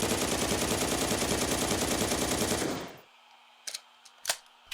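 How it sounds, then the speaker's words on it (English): Submachine gun fire from the Black Mesa video game: a dense, loud, continuous automatic burst for about three seconds, then a few sharp clicks and brief impacts in near silence. "The SMG."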